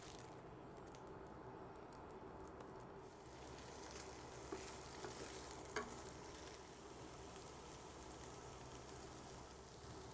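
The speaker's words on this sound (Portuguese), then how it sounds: "E refogar o restante" Remaining ingredients for a meatball sauce with jabuticaba sautéing in a pan, a quiet steady sizzle with occasional stirring clicks and no talking.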